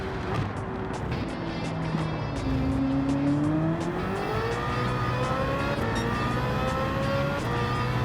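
A GT500 race car engine howls during a race on a California track, a loud sustained roar with rising and falling pitch as it accelerates, other cars droning alongside under a constant crowd-like wash.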